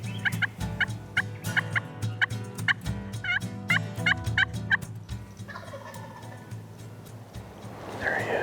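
A wild turkey gobbles during a spring turkey hunt, with repeated short rattling gobbles in a clear rhythmic series, then quieter rustling and movement nearby.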